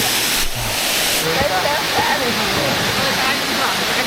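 Minoo Waterfall in Osaka, Japan, roars in a continuous, dense rush of water at dusk, loud and close, with only faint sounds from the surroundings.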